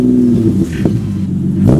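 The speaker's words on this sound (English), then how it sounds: "Here, give it some revs." A Nissan 370Z or 350Z engine idles with a deep aftermarket exhaust rumble, then revs up briefly twice, loud and close.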